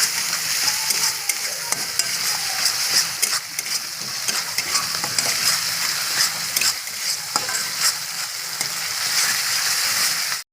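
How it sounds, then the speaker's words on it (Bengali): Ingredients with ginger-garlic paste frying in a pan until reddish: a dense, steady sizzle with frequent stirring scrapes and taps, close and unbroken, with no speech. "দিয়ে আমি এগুলোকে একসাথে লাল লাল করে ভেজে নেব।"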